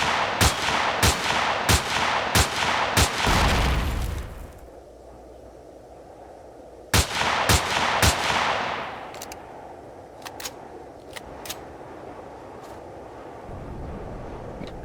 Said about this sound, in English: Oh, that's a turret.